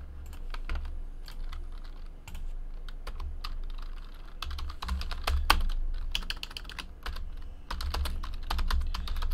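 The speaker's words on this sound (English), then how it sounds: "let's type these in and let's see who ends up with what" Keys clatter on a computer keyboard as names are typed in during a 2018 Leaf Ultimate Draft football card break; close, steady bursts of quick clicking keystrokes with brief pauses, no voices.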